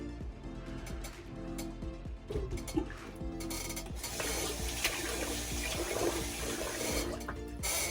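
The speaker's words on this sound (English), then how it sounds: "I'll let some of this water out of my sink." Water drains out of an overfilled bathroom sink during a wet shave, a steady close gurgling rush that builds and continues for several seconds.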